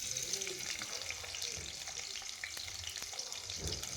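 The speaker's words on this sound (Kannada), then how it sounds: "ಈರುಳ್ಳಿ ಲೈಟಾಗಿ ಗೋಲ್ಡ್ ಕಲರ್ ಬರಬೇಕು, ಅಲ್ಲಿ ತನಕ ಹುರ್ಕೊಬೇಕು" Sliced onions fry in about 100 ml of hot oil for a dhaba-style chicken dish, with a continuous, fairly quiet sizzle and faint scrapes of stirring, with no voice over it.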